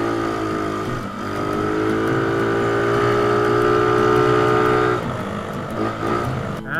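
A small scooter engine hums close up, its pitch climbing steadily as it revs, then dropping back to a rough idle near the end.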